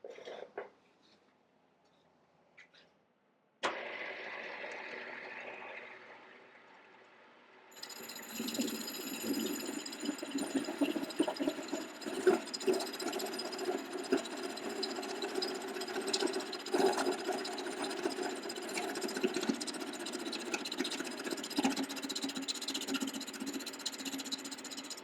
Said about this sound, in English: we're just going to bring the table in the case into the saw, and hopefully cut the lumps off here and smooth it up a little bit